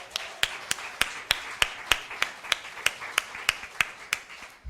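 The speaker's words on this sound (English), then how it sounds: "I think we need a round of applause for COPASA." Sparse, evenly spaced claps ring out at a conference evening plenary, sounding like a small scattered round of applause rather than a full crowd, with sharp individual hand strikes in a steady rhythm and no talk over them.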